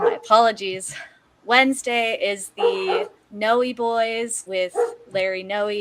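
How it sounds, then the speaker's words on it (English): Dogs barking and yipping somewhere in the house, the sounds mixed in with steady male speech that runs through most of the clip. "Sorry about my dogs if you can hear them."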